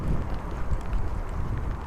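Steady, heavy wind rumbling and buffeting against the microphone at a former coal mine site, with continuous low roaring gusts and no voices.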